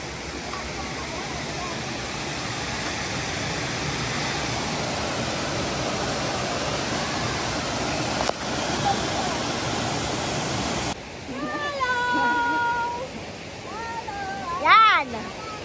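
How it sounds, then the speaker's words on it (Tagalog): A fast stream rushes near the Dragon Ball waterfalls at Wang Chung in Hong Kong, giving a steady close roar of water for most of the stretch before it drops back and people talk over a quieter flow. "Nakatawid kami sa isang baragasong tubig."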